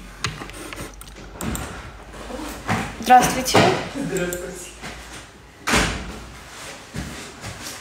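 An indoor door is opened and closed with a few sharp knocks and thuds, set among steady talking voices during a live stream.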